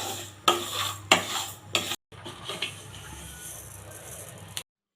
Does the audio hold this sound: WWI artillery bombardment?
no